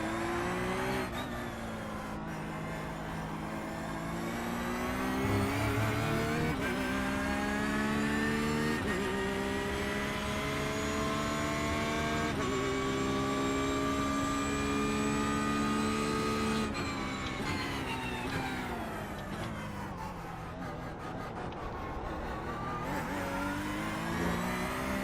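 LMP2 prototype race cars on track, engines rising and falling in pitch as they pass and shift, a loud, close, continuous mechanical howl with no voices.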